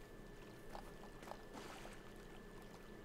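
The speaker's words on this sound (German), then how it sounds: "Ich höre Wasser." Flowing river water in the shooter Battlefield 3, a faint continuous wash and trickle with soft splashy movement, low in level and without talk over it.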